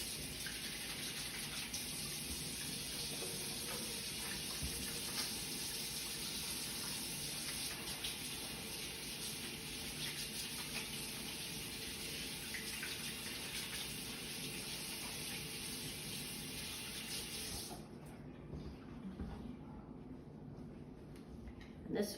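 Hands are washed under a running kitchen tap during bread making, a steady soft gush of water for most of the time that cuts off near the end, leaving a quiet room.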